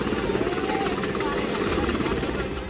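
A rescue helicopter flies over flooded Warangal district, Telangana, during heavy rain, its rotor chop a loud, steady, continuous throb with a narrator's voice over it.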